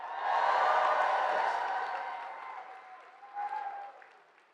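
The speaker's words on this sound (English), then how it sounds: "Please give yourself a round of applause" A large crowd at a Milwaukee campaign rally for Harris, where Obama appears, breaks into loud, sustained applause mixed with cheers and whoops, swelling at first, then easing off before a brief second surge.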